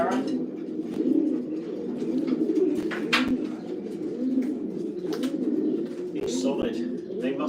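Racing pigeons coo steadily in a loft while being basketed for a race to Honiton, a dense rolling chorus of low burbling calls throughout, with occasional wing flaps and clatters and faint human voices in the background.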